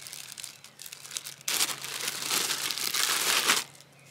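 Crinkly plastic wrapping of an AliExpress parcel rustles and crumples as it is opened, with quieter handling at first and a loud, sustained burst of crinkling and tearing in the middle before it stops abruptly.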